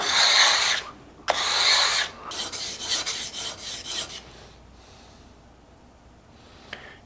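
The blade of a Stanley 62 plane is ground flat to take off an old micro bevel, making rough rasping strokes in a few close bursts that fade to quiet near the end.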